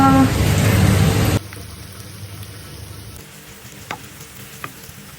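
Ground pork or beef for an eggplant dish hits a hot pan with a loud burst of sizzling that drops suddenly to a quieter, steady fry, with a couple of light utensil knocks afterward.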